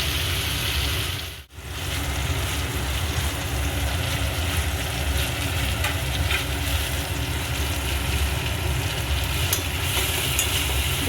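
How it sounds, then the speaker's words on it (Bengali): Spice paste for a vegetarian potato and pointed gourd curry fries in a pan, a loud, steady, close sizzle with a hissing, crackling texture that barely changes throughout, with no talking. "আরও খানিক্ষণ আমি মশলাটা ভালো করে কষে নেবো"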